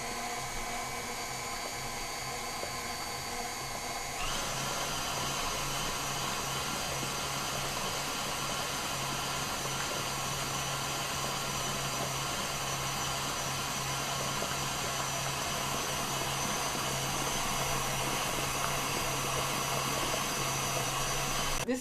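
Electric hand mixer beating pound cake batter in a bowl, a steady loud motor whir that holds one pitch throughout and shifts slightly higher after a few seconds, with no talking.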